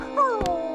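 A wild dog, part wolf, gives a sliding, rising-then-falling howl that drops into a short whimpering whine, close and fairly loud, with no talking.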